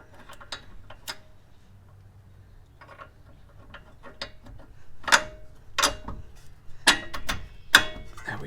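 Several sharp ratcheting ticks of a wrench tightening a bolt on a Subaru WRX race car's front end, coming in short irregular bursts, close and clear with no talking.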